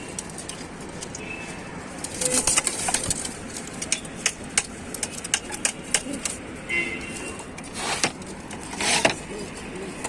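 Pigeons in a loft of birds kept for sale cooing in soft repeated calls, mixed with scattered rustles and the odd wing flutter, fairly close.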